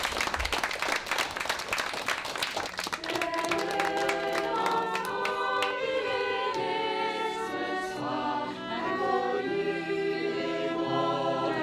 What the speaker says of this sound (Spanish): Les pedimos un aplauso.